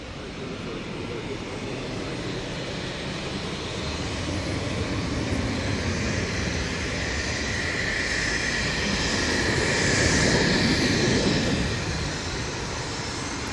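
An EasyJet airliner at Manchester Airport, a broad, loud engine roar that builds gradually, peaks near the end and then eases slightly, heard close by outdoors.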